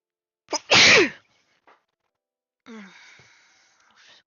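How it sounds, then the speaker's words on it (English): A single loud sneeze, close up, followed after a pause by a softer breathy exhale and sniffling. "Got the sneezes today."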